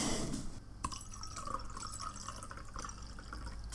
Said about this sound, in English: can we start with the lovely sound of this wine pouring?